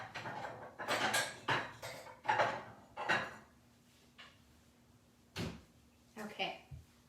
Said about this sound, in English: Let me grab a bowl because I didn't grab one.